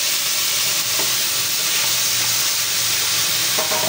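Onions and tomatoes sauté in a pan with a constant close hissing sizzle. A couple of faint clinks come from stirring, and no voices are heard.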